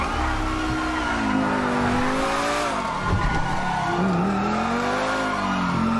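A car in Grand Theft Auto V drives hard, its engine whining and rising and falling in pitch as it revs, with tire squeal and skidding mixed in and a brief thump near the middle.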